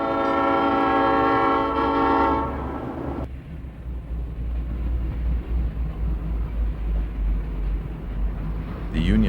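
A Santa Fe passenger train creeps past grade crossings through residential areas, its multi-tone horn sounding loudly for a few seconds and cutting off into a low rolling rumble, then briefly blowing again at the end.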